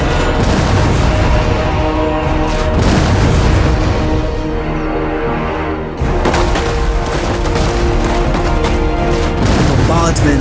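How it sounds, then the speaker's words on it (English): Loud, dense booming blasts of English cannon fire bombarding a fortress at the 1428 siege of Orléans roll continuously, a heavy barrage that fills the whole soundscape with rumbling explosions. "the English cannons sounded off."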